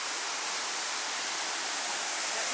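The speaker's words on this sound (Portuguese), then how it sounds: "Da brisa da água que vem também aí da cachoeira." A waterfall roars with steady, dense, broadband rushing water, loud and close, continuous without pause or voices.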